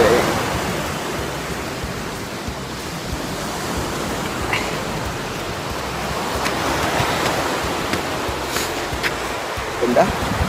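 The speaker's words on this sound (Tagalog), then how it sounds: "Look at the waves." Ocean waves washing onto a beach make a steady broadband rush of surf with rising and falling swells, moderately loud and close, with faint voices and wind audible now and then.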